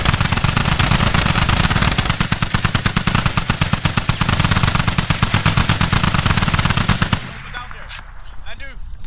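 Sustained rapid machine-gun fire in the Squad video game during close-quarters combat at Al Basrah, loud steady bursts for about seven seconds, then stopping abruptly into quieter background with faint distant sounds.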